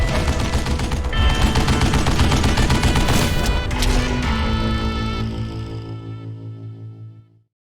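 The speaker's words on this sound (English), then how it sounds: "Kid Curry opened up on me with a goddamn Gatling gun" Gunfire from a Gatling gun in the Western shooter Call of Juarez: Gunslinger, a loud, dense stream of rapid shots with a few louder bangs, tapering off into a ringing tail near the end; nobody speaks.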